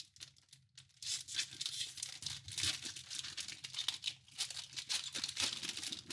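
Panini Prizm football card packs are torn open with soft crinkling foil rips and tearing bursts, close and quiet, continuing in irregular pulls with no talking.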